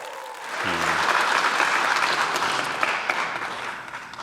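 Democratic Party lawmakers applaud in the National Assembly plenary chamber in Seoul, a steady, dense wash of clapping from a large group that continues throughout, with a brief low voice near the start.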